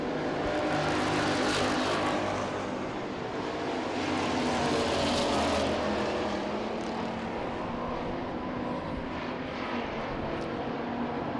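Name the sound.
street stock race cars racing on track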